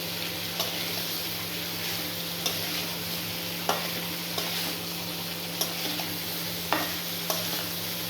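Potatoes fried earlier are sautéed with spices in a pan, a steady sizzle running throughout with periodic sharp clicks as a spatula scrapes and taps the pan, near and moderately loud with no voices.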